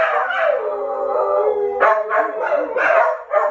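Several dogs howl and bark together in a sustained, loud chorus during a honking car parade, their voices rising and overlapping, with a brief dip before a renewed burst of barking.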